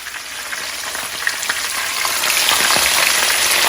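Fish drops into hot oil and fries with a loud, dense sizzle and crackle that swells and stays steady, close up, with no talking.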